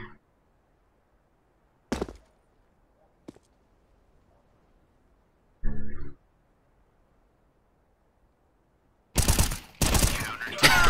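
Gunfire in Counter-Strike: Global Offensive, with a few isolated single shots early, then a dense burst of rapid automatic fire at the end; a voice is briefly heard between them.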